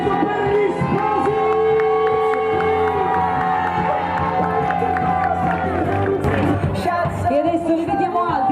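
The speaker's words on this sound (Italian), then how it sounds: "L'applauso per gli sposi!" Wedding guests cheering and applauding the newlyweds at a reception with sax music, loud sustained crowd whoops and clapping mixed with music throughout.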